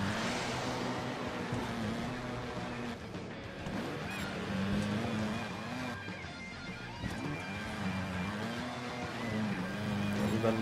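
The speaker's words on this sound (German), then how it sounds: "aber man hört viel stärker das Motorrad" Motorcycle engine in the video game Trials Evolution, a continuous droning motor whose pitch rises and falls with throttle changes, under someone speaking throughout.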